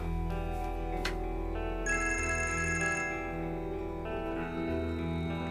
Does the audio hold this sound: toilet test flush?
no